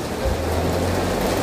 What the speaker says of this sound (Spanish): Fuertísimo que se nos vino la lluvia